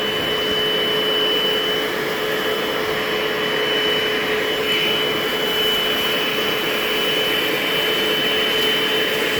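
A Bissell SpotBot Pet hands-free portable deep stain cleaner runs with a steady, loud motor whine and airy hiss, continuous and unchanging, with no voices.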